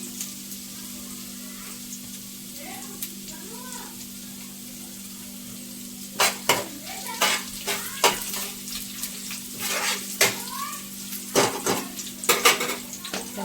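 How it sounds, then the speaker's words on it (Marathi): Mixed vegetables frying in oil for a chili dish, a quiet steady sizzle under a low hum, then a lively stretch of spatula scrapes and clinks against the pan as they are tossed, with no talk. "सगळ्या भाज्या तेलात फ्राय करायच्यात आणि या सगळ्या भाज्या मी एकत्रच मिक्स करते"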